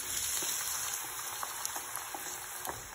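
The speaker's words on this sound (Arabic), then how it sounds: "نصندغ البصل" Chopped onion fries steadily in a pan for stuffed grape leaves (sarma), giving a continuous close sizzle with faint crackles and no talking.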